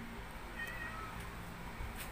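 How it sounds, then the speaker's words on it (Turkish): A cat meows faintly a couple of times in a home kitchen, heard through a steady background hum. "Kedi"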